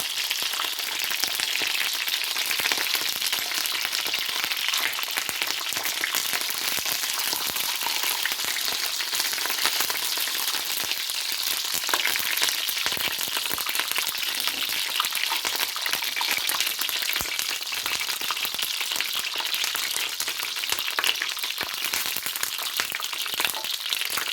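Continuous crackling sizzle of dolma peppers frying in oil, close and even throughout, with no voices.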